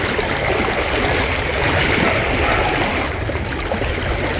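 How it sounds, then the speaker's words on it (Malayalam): Seawater rushing and streaming around flooded houses on the Kerala coast at Chellanam, a steady, loud broadband wash of moving water without pause. "കടൽ കയറി ഒട്ടേറെ വീടുകളാണ് വെള്ളത്തിലായിരിക്കുന്നത്"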